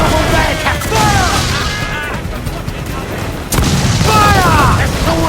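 Ship cannons fire during a naval battle in Assassin's Creed 4 Black Flag, heavy booming volleys in two bursts with a loud crack mid-clip, while crew voices shout over the gunfire.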